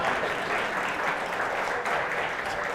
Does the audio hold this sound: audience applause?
yes